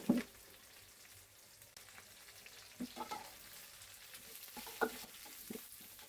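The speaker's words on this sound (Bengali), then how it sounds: "আলুটা আমি ভাজা ভাজা করে নেব" Soft crackling sizzle of potatoes and onions frying in a pan, with a few sharper clinks and stirring scrapes scattered throughout; no voices.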